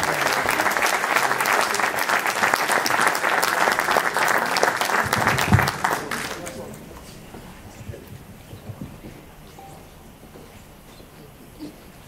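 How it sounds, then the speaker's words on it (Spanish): Audience applause for a singer at a musical tribute concert, loud dense clapping for about six seconds that then fades abruptly into quiet room noise. "Un aplauso para esta gran voz e para esta gran artista"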